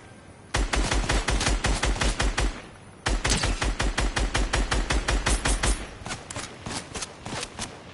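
Rapid automatic gunfire rattles from a video-game weapon in two sustained bursts separated by a brief gap, with the second burst thinning into more spaced shots toward the end.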